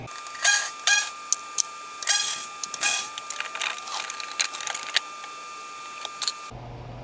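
A plastic underbody panel is pulled off beneath a 2018 Ford Focus, making a series of sharp snaps, clicks and scraping rattles close by, in irregular bursts that end abruptly.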